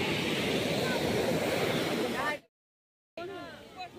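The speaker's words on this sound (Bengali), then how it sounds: "মোটামুটি ঢেউটা তো জোরে হচ্ছে, কিন্তু ঘাটে বিশেষ আসছে না" Sea waves wash and break near the shore in a loud, windy rush that stops abruptly in a short gap before surf resumes with a voice talking over it.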